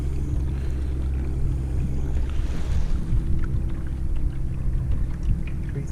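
A homemade trolling motor drives a kayak across water, a steady low drone under wind rush and light splashing, loud and close throughout.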